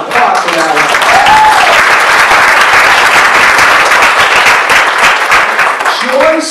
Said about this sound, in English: Come on, applause for that.